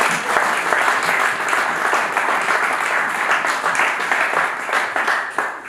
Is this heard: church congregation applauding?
yes